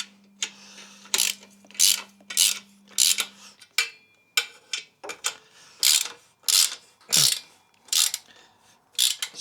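A ratchet wrench clicks close by as bolts are wound in side by side on a CFMoto 450MT motorcycle, in a steady run of short bursts of ratcheting with brief pauses between strokes.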